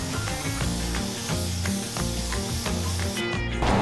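A spray gun lays primer coats onto a car grill with a continuous airy hiss, heard over a rhythmic music bed that fades near the end.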